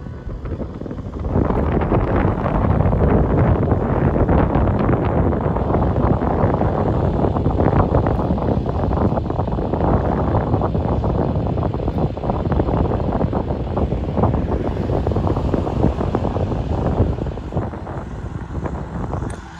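Strong wind in Jasper National Park buffets hard and loud, a dense roaring rush that rises after a quiet start and holds steadily throughout.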